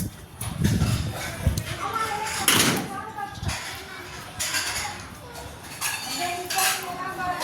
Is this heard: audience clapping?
no